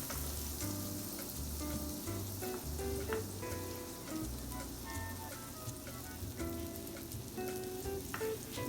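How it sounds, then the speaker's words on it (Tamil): Butter melting and sizzling in a hot frying pan while making creamy chicken pasta, a steady close crackle and hiss running without pause, with faint clinks and tonal kitchen sounds over it and no voices. "இந்த பட்டர் ஆட் பண்ணுவோம். பட்டர் கொஞ்சம் மெல்ட் ஆகணும்."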